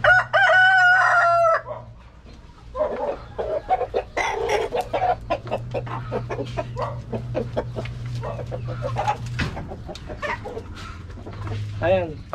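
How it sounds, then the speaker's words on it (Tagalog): Roosters crow loudly at the start, then chickens cluck and peck in a backyard pen, busy overlapping bird calls with a steady low hum underneath. "pakainin ko muna yung 2 tandang ko dito sa kabilang kulungan"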